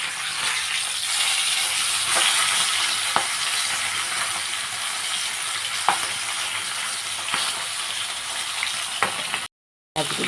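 Steady, loud sizzle of fish frying in oil in a pan on a gas stove, a continuous hiss with occasional spatters, no talk, broken by a brief silence near the end.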